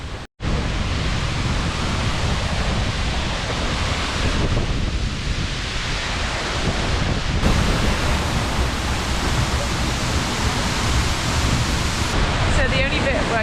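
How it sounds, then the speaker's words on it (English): Heavy roar of a waterfall in Iceland heard from behind the falling water, a loud, unbroken broadband rush filling the whole stretch, with a brief cut near the start. "now we're behind the waterfall and it's actually very dry here, although very loud"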